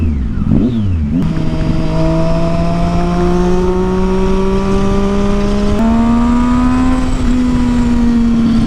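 A Triumph Street Triple motorcycle fitted with a Yoshimura exhaust roars loudly and close up, its engine note rising steadily through a long rev with a brief dip and pickup partway through.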